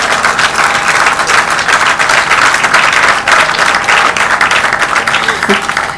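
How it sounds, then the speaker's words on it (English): Crowd applause at a ceremony for a new medical centre, loud and sustained throughout with a thick wash of overlapping claps and some voices mixed in. "You don't think they deserve an applause?"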